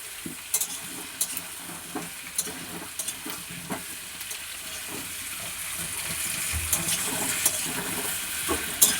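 Onions fry in a pan with added pieces of potato, papaya and tomato, a continuous sizzle broken by repeated sharp scrapes and clacks of a spoon stirring, close and fairly loud.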